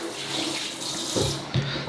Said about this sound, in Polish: Woda leci, zimna, ciepła.